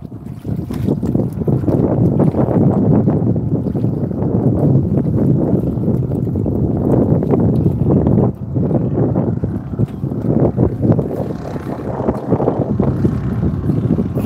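A boat moves on the open sea, its steady engine rumble mixed with heavy wind buffeting the microphone and water wash, loud and continuous throughout.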